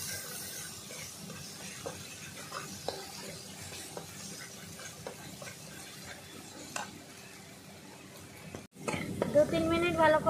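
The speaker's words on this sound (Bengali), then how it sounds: "ভালো করে আমি মশলাটাকে 2 থেকে 3 মিনিট ভালো করে আমি ভেজে নেব" Turmeric and chilli powder frying in hot oil in a pan, a continuous low sizzle broken by scattered spoon taps and scrapes, followed by a short pause and a louder burst of sizzling.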